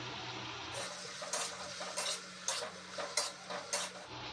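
Tomatoes and green peas are stirred in a pan for a Maharashtrian cabbage and pea dish, giving about six evenly spaced scraping strokes over a low steady sizzle with a faint hum beneath.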